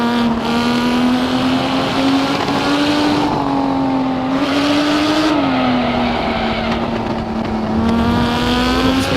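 Lamborghini Miura P400SV in Assetto Corsa, its rear-mounted engine droning loud and steady under hard driving, pitch rising and dipping slightly through the lap with faint tire squeal, and no talking.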